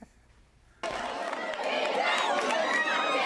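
Fans at a Friday night high school Senators football game at the beach make a steady, loud wash of crowd noise and chatter that swells in suddenly after a quiet moment.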